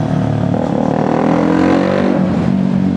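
A KTM RC200 motorcycle engine drones loudly nearby on Marcos Highway, its pitch rising and falling as it revs, with no talking.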